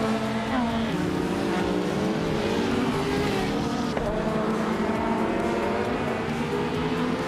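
A pack of race cars, among them a 1990 Nissan Skyline GTR R32, drones steadily and loudly in a racing video game, engines shifting pitch together as the cars run nose to nose.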